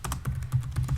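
Quick bursts of keystrokes rattle on a computer keyboard, about a dozen close, crisp taps in an uneven rhythm, with no voice.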